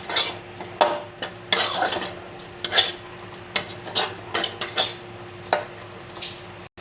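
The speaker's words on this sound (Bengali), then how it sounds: "এবার এটাকে ভালো করে নাড়াচাড়া করে মিশিয়ে নেবো আর এর সাথে দিয়ে দিলাম আমি এক চামচ মিওনিস" A spoon scrapes and clinks against a bowl as a filling is stirred and mixed with mayonnaise, irregular close taps and scrapes over a faint background sizzle, no talking.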